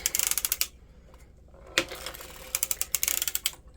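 A circular sock machine knits a heel in two bursts of rapid ratcheting clicks separated by a short pause, close and crisp, with a sharp mechanical clack between them.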